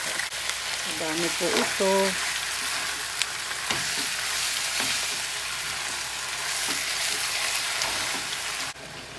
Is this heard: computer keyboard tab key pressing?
no